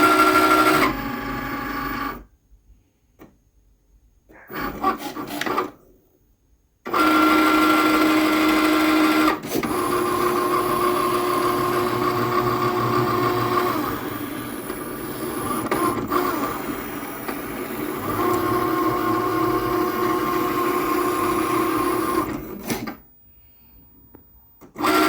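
A Cricut cutting machine cutting 65-pound light cardstock, a steady close mechanical whirring and buzzing with shifting motor tones, broken by brief pauses and ending with quiet stops, no speech.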